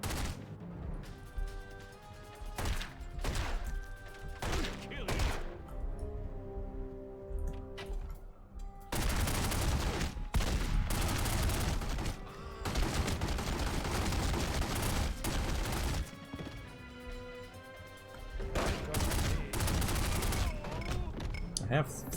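Gunfire in the video game The Godfather: The Game, with loud bursts of rapid shots and heavy impacts broken by quieter gaps, set against game sound and some background voice.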